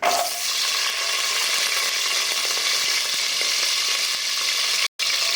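A cinnamon stick, cloves and onion sizzle and fry in hot ghee, a loud, steady crackling hiss close up with light stirring, briefly cut off near the end.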